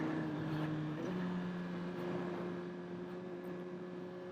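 A 2022 Suzuki GSXR 1000R with an inline-four engine and Akrapovic exhaust idles at around 6,000 RPM. It gives a steady, even drone with tonal harmonics, holding constant throughout with no talking.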